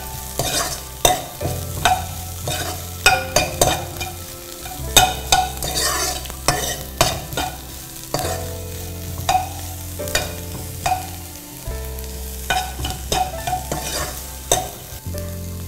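Ingredients for sambar sauté and stir in hot oil in a pan, with a steady sizzle and repeated scraping stirs of a spoon at a regular rhythm, close and fairly loud, with no voices.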